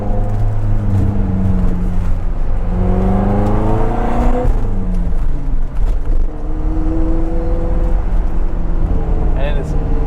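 A Lotus Esprit twin-turbo V8 with a new exhaust drives close by, its engine droning loudly with rising and falling revs and a prominent turbo whoosh. A voice talks now and then over the engine.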